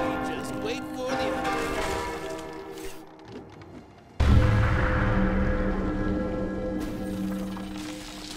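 A bell rings in the LEGO Ninjago Movie video game, with resonant tolling over game ambience, then a sudden loud strike that leaves a sustained ringing tone.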